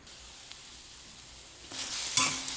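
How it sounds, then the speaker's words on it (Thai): Galangal, lemongrass and kaffir lime leaves are dry-roasted in a pan for chicken tom yum, a quiet low hiss that swells into a brighter, louder sizzle with a sharp scrape near the end. "หอมข่าตะไคร้ใบมะกรูด ขวาก่อนจ้ะพี่น้อง เอามาคั่วให้เหลืองให้หอมก่อน"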